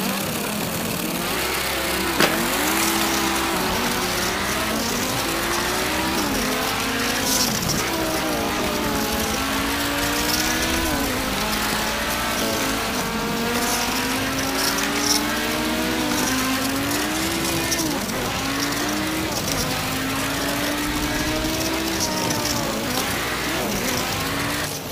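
Motorized diecast toy race cars whir along a track in a food truck themed tournament heat, a continuous buzzing motor whine rising and falling in pitch with rattling wheels and no voices.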